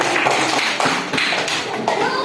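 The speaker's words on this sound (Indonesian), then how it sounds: "tepuk tangan untuk kelompok pertama" Classroom applause for the first student group at a madrasah, a dense patter of many hands clapping steadily for about two seconds with slight dips, close and fairly loud.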